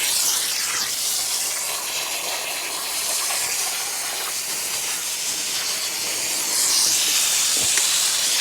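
A Holman tractor sprinkler, fed by a garden hose, sprays water across a narrow lawn, making a steady, close, broadband hiss that swells slightly near the end.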